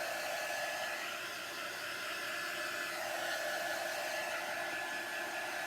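A hair dryer runs steadily and close, drying water-soluble chalk on a wooden box, a constant breathy whoosh held without a break and with no speech.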